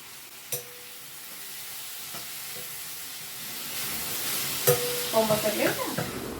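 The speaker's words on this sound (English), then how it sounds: "then added onions, frying it till it turns slightly brown" Onions fry with a bay leaf in a pan, a steady soft sizzle under the occasional clink and scrape of stirring, growing a little louder toward the end.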